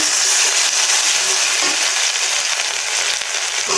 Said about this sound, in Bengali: পেঁয়াজটা হালকা ভাজা ভাজা হয়ে গেলে আমি এর সাথে আদা রসুন পেস্ট অ্যাড করব এবার নাড়া দিয়ে দিচ্ছি